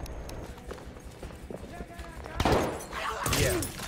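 Horse hooves clip-clop in Battlefield 1 amid sniping in a conquest match, quick irregular hoofbeats mixed with bursts of gunfire and a loud blast near the end, with a player talking over it.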